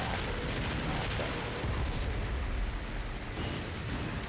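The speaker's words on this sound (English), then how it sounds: "then I start to panic fire some of my rockets" Rockets fired in a panic from a plane in a video game over a convoy, heard as a dense, continuous rumble of booming bursts and blasts that stays loud throughout, with heavier thuds near the middle.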